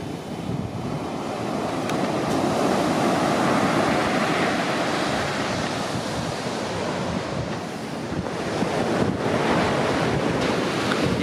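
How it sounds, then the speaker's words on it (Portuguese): Heavy sea surf breaks continuously at Nazaré beach, a loud, dense roar with wind buffeting the microphone. The swell rises again toward the end, and no voices are heard. "vou ficar aqui um bocadinho sentado a apreciar o mar"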